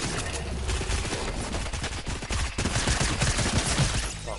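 Dense, continuous rapid gunfire in a video game shooter, a steady loud wash of overlapping shots with rhythmic automatic bursts throughout and no talking.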